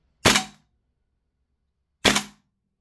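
A Tokyo Marui Saiga 12 gas blowback airsoft shotgun fires two sharp, close shots about two seconds apart, each a crisp pop with a brief gassy tail, separated by silence.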